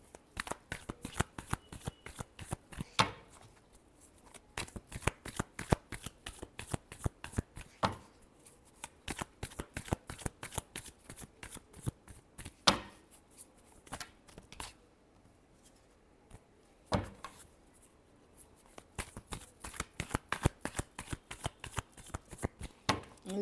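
Tarot cards shuffled by hand in a steady, rapid riffle of crisp flicks, close and fairly quiet, with a few brief pauses between bursts and no talking.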